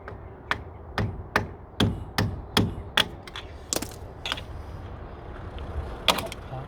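A hammer taps a hub oil seal part on a Land Rover: a run of sharp metallic knocks, about a dozen evenly spaced, then sparser strikes, close and clear with no voices.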